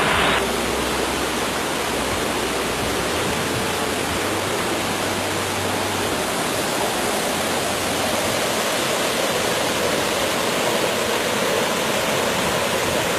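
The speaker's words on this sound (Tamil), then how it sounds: "தேவாலாவில் உற்பத்தியாகிற பாண்டியாற்றினுடைய தண்ணீர் இந்த வழியாக வந்து இப்படியே போய்" Water of the Pandiyar river, which rises at Devala, rushes past in a steady, loud broadband roar like a waterfall or fast stream, continuous and close throughout with no speech over it.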